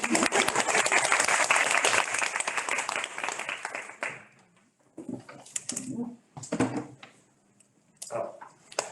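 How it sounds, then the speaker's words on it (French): A conference audience applauds: dense clapping for about four seconds that then thins to scattered claps and a few voices. "On va applaudir."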